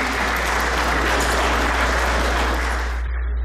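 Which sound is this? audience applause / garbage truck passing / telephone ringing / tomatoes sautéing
audience applause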